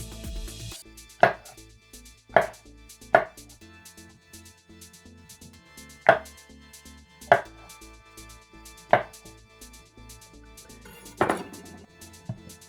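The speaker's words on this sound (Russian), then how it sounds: "Шампиньоны режем на 4 части." Mushrooms being cut into quarters with a knife on a board for Thai fried rice with egg and pork, about eight distinct sharp chops spaced unevenly over a quiet kitchen background, no talk.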